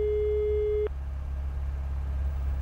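A steady electronic telephone tone heard after dialing a mobile number in a children's animated show, holding one pitch for under a second before cutting off abruptly, leaving a low background hum.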